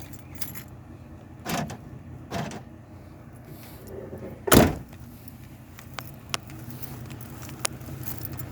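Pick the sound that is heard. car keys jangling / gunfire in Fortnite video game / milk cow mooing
car keys jangling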